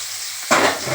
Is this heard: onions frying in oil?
yes